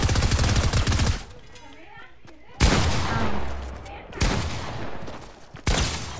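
Rapid automatic gunfire bursts in Fortnite, loud and close, cutting in and out in several separate volleys with short quiet gaps, while people chat in the background.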